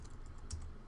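Code is being typed on a computer keyboard in a quick burst of soft, close key clicks.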